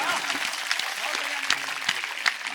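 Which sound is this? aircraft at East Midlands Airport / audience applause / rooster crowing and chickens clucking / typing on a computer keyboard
audience applause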